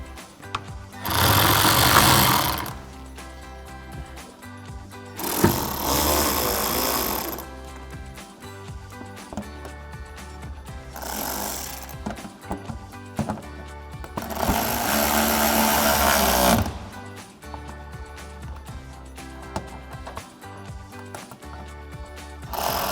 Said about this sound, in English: we'll go ahead and tighten those down again with our 8mm socket on our ratchet